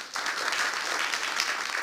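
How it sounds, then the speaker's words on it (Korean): An audience at a Korean political party's joint meeting of national and regional committee members applauds to welcome a research institute head, giving a dense, steady burst of clapping throughout. "박수로 맞이해 주시기 바랍니다."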